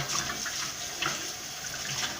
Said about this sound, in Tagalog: tutulo naman yung tubig na umawas pabalik na sa sink